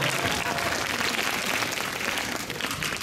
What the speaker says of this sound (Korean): 네, 다시 박수 한번 더 쳐주세요.